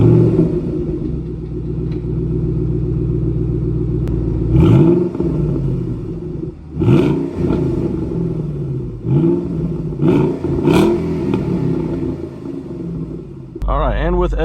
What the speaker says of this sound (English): A quick little drive with the Borlas as I'm going to the shop.